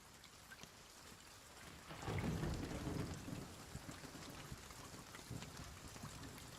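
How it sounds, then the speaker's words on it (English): Steady rain pours down in the video game Escape the Pacific, with a rumble of thunder swelling around two seconds in, then easing back into continuous rainfall. "Oh, it's raining, it's raining."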